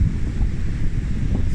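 Surf breaks and washes against a sea fishing beach as wind buffets the microphone, a loud, steady roar of waves and gusts with no voices.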